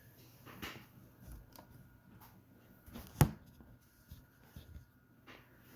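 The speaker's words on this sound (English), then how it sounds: "And close the door here." One sharp, close thud of a door being shut in a quiet room, surrounded by faint rustles and small knocks.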